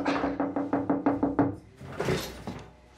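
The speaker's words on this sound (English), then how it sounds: "Someone at the door at this exact moment." Knocking at a door in a dramatic indoor scene: a rapid series of about eight sharp, evenly spaced raps in the first half, then quieter rustling and faint movement with no talk.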